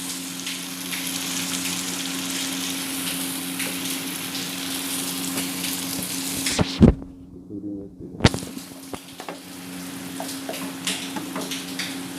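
Ingredients being mixed in a bowl for a Punjabi breakfast, a continuous close whisking and scraping that stops abruptly for about a second and a half, then resumes with similar steady churning and no voices.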